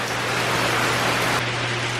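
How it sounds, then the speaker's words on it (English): Rain pours steadily on a flooding street in a continuous broadband hiss with no distinct drops. A low, steady hum sits underneath throughout. "I think it's only supposed to rain for an hour, but still."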